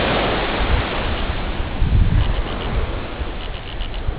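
Ocean waves on Cumbuco beach at low tide, a continuous close roar of surf with wind buffeting the microphone throughout.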